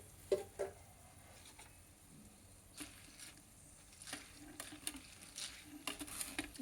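Chana dal frying briefly in hot oil, a soft, quiet sizzle with scattered stirring scrapes and light clicks that grow a little busier toward the end.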